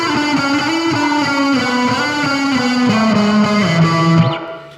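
An electric guitar played through a cheap amp with only reverb on, sustained distorted notes sliding slowly downward, loud and close, fading out at the end.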